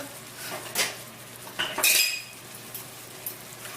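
A utensil clinks and scrapes inside a pot while salt is mixed into a fish, dhal and coconut dish, with a few sharp metallic knocks over a quiet background.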